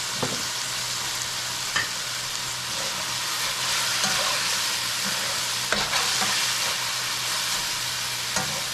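Curry frying in oil in a pan, with Gilbaka stew and potatoes, gives a steady, close broadband sizzle throughout, broken by occasional sharp pops and spatters, with a low constant hum underneath.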